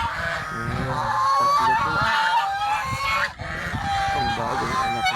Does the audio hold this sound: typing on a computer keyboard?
no